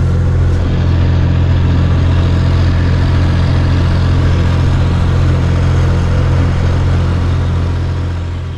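A tractor engine runs just ahead of a cyclist on a French bike route, making a loud, steady, low idling rumble that holds throughout with no talk.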